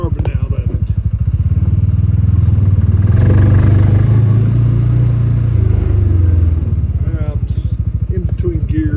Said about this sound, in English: My little cheap Jeep seems to be puttering a little bit